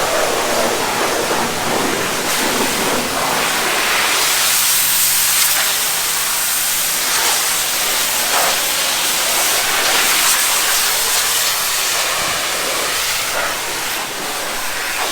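Water sprays steadily onto a ceramic-coated car, a broad continuous hiss with slight surges as the spray moves, close and fairly loud, with no voices.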